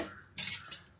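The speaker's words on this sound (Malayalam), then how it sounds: "ഒന്ന് ഇളക്കി നോക്കാം" Spoon stirring milk in a pot, two quick metallic scrapes and clinks against the pot, close and brief, with near silence around them.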